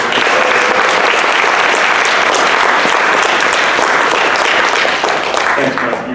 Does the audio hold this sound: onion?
no